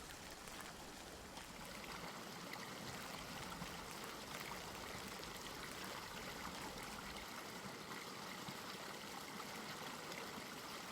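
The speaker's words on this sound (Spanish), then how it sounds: "Este es el río Duerna, un río modesto y discreto de tan solo 54 kilómetros de longitud" The Duerna, a modest 54-kilometre river, flows steadily with a constant broadband rush and trickle, close and even throughout with no voices.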